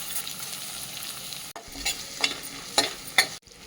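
Onions and chana dal fry in three spoons of oil with mustard seeds and cumin, the start of a bottle gourd curry. A close, bright sizzle runs throughout, with several clacking stirs of a spoon against the pan. The sound cuts out briefly twice.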